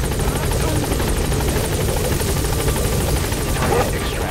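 A helicopter in the video game Metal Gear Solid 5 drones steadily and loudly throughout, its rotor chop pulsing continuously with game sounds mixed in.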